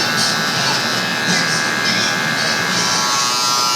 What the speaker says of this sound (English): Next I use my cordless wall clippers that are the 100 edition, 100-year edition, 100 anniversary edition.